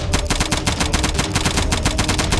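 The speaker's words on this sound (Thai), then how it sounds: "เฮ้ยยิงมาแล้วอ่ะ" Rapid automatic gunfire in a staged Squid Game comedy skit, a continuous loud burst of evenly spaced shots with no talk.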